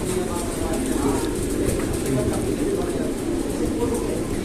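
Pigeons coo steadily in a pigeon loft, with soft layered calls from several birds close by and a constant background hum.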